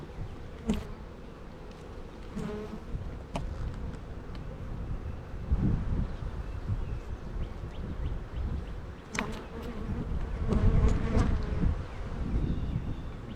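Honeybees about to swarm buzz densely around a hive frame being inspected, a continuous close drone with occasional louder passes and light knocks of handling.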